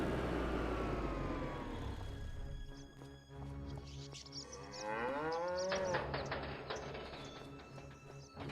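Cattle low with long, drawn-out moos on a farm in the Farming Simulator 25 video game, one deep call and then a higher, wavering one, clear over a low engine-like drone and faint background noise.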